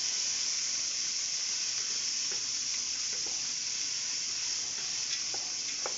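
400 grams of drained chickpeas sizzle in a hot pan while making couscous, giving a steady, bright hiss throughout with faint scattered pops and no talking.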